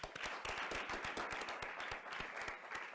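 A seated audience at an economics conference in Mexico claps for a second panelist, a sustained, even round of applause with many overlapping hand claps and no voices over it.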